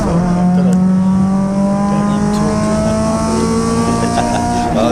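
Triumph Spitfire race car on a track, a loud sustained engine drone holding a steady high pitch that creeps upward as the car accelerates, with faint crowd or commentary noise underneath.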